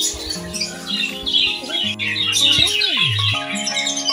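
Budgerigars in a breeding colony with clay pots, squawking and chirping continuously at close range, a busy overlapping chatter of many birds over a steady background hum.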